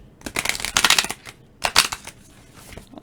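Moonology oracle cards being shuffled by hand, heard as two close, papery riffling bursts separated by a short pause, with no talking.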